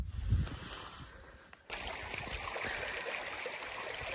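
Steady broadband rush of Betty Creek flowing nearby at a campsite, quieter at first and then filling in loudly and evenly, with no voices.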